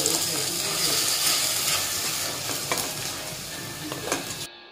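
Chopped raw mango being stirred into melted jaggery over a low flame for sugar-free jam, a continuous soft sizzle with steady scraping and sticky stirring that stops abruptly at the end.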